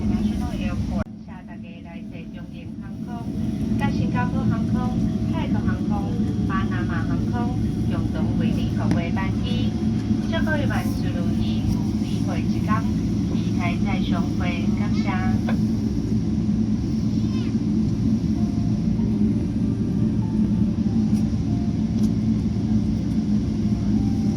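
A steady, loud airplane engine rumble drones throughout as the plane taxis into Taipei, Taiwan's airport, while people talk over it.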